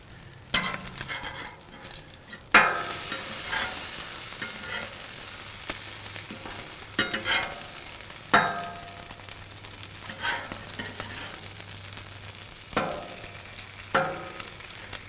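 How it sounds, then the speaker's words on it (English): Bacon sizzles steadily on a Blackstone griddle with burners at medium-high and medium, a constant crackling fry broken by several sharp scraping and turning clatters from a spatula, close and fairly loud. "So I'm cooking on the Blackstone griddle today."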